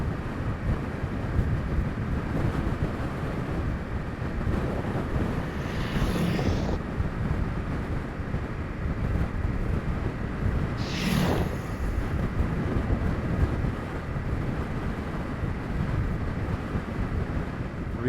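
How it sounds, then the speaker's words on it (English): Steady wind buffets from the side while riding a Honda CRF 300 Rally motorcycle on a bumpy washboard dirt road, a constant broadband rush close to the microphone, with two brief hissing gusts standing out. "the wind is also a bit from the side"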